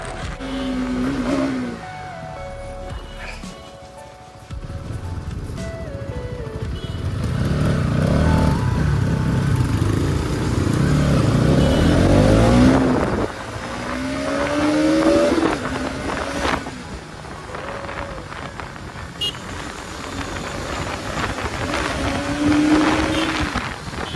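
A Bajaj Pulsar 220 motorcycle engine with engine damage roars nearby at full throttle, revving up and down repeatedly with rising whines as it accelerates, loud and continuous throughout.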